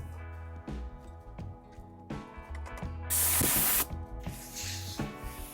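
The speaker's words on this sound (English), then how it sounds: "All right, now we can spray glue." Spray glue hisses from a can onto the carpet panel of a classic Volkswagen, one loud burst of about a second standing out over background music, with a fainter spray trailing after it.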